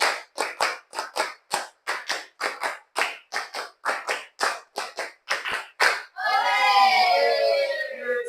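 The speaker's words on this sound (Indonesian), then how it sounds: "tepuk 5 kali." A group of people claps hands together in a long run of sharp, rhythmic bursts, loud and close, and then breaks into sustained cheering and shouting.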